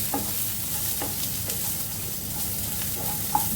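Chopped onions fry and sizzle steadily in a pan over medium heat, turning light brown, with occasional soft stirring scrapes and no talking.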